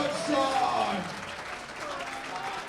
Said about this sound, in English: we got a standing O for Ron